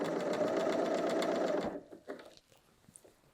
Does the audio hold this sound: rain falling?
no